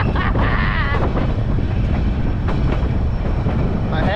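The White Pass train runs along its rails with a loud, close, rolling roar and rhythmic clickety-clack, buffeted by gusts of wind against the microphone.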